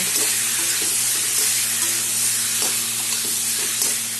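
Raw green mango chutney with turmeric being stirred in a hot pan, a steady broadband sizzle with soft scraping strokes of the spoon recurring throughout, close and continuous with no talking.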